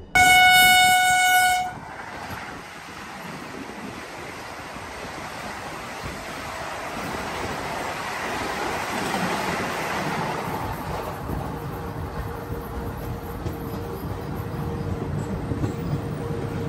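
Porbandar Shalimar Express train running near Bilaspur Junction, a steady rumbling roll of the carriages with a horn sounding loudly at the start, then continuous track noise building gradually.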